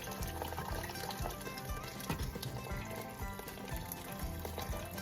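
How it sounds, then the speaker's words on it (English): A liter of hot water is poured into a pot of Mexican beef soup with vegetables, a continuous burbling, splashing stream heard close up and without talk. "Now I'm gonna add another liter of hot water."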